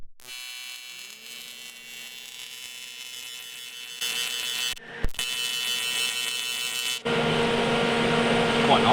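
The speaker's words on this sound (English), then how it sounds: "See how this welds." A 10-into-1 exhaust manifold for a V10 BMW M3 being welded, a steady electrical buzz and hum that shifts into harsher crackling bursts with short breaks, close and moderately loud.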